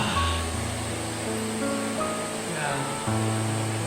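Steady rushing water of a waterfall at Geumsan 12 Falls, South Korea, roars broadly and continuously throughout, with faint voices and a tonal hum buried beneath the wash.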